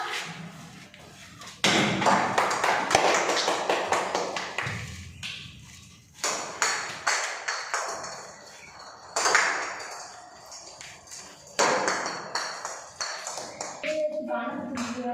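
Scattered thumps, knocks and pings of plastic bottles toppling as a ball is thrown at them in a children's bottle-knocking game, with people talking throughout.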